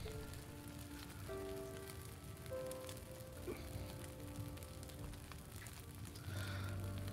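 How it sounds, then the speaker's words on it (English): Steady rain falling in the menu screen of the video game Jaws of Extinction, a soft continuous patter under quiet tonal menu music, faint and even throughout. "It even rains in the menu, look."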